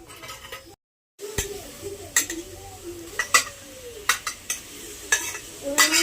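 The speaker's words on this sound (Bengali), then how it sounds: "বয়েল করা পাস্তাটা দিয়ে দাও।" Boiled pasta tipped into a ready sauce in a pan and stirred, with a brief dropout followed by scattered clinks and scrapes of utensil on the pan over a light sizzle, and a voice speaking intermittently.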